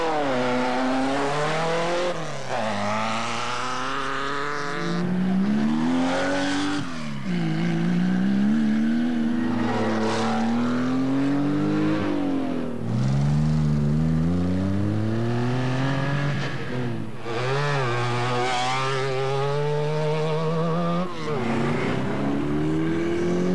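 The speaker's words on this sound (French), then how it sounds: "un moteur Yamaha 1100 cm3 et 4 roues motrices" A very light 500 kg four-wheel-drive Paris-Dakar prototype with a Yamaha 1100 cc engine revs and accelerates repeatedly. The engine note climbs and falls through several gear changes, with some passing sweeps and a voice talking over it at times.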